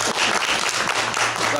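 An audience claps and applauds at an evening speaking event, a dense, steady burst of many hands that continues briefly.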